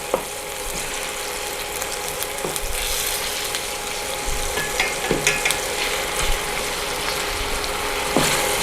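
Tomato soup ingredients cook gently in a pan with a steady, close sizzle, broken now and then by soft scrapes and light knocks of stirring.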